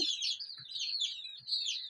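Birds in a home poultry coop with pigeons and chickens, chirping and tweeting busily and continuously, close and fairly quiet, with a few soft low cooing notes.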